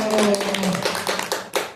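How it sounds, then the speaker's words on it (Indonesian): A small gathering at a Ramadan event in a bamboo hall gives a brief burst of hand clapping, a couple of seconds of scattered claps with a voice speaking over the start. "Tepuk tangan dulu."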